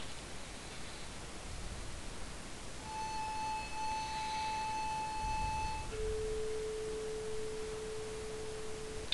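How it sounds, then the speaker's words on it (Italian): Tuning fork tone recorded through a microphone, a pure steady sine pitch sustained for several seconds and then replaced by a second, lower pure tone, heard over a constant hiss of background noise. "Prima il diapason"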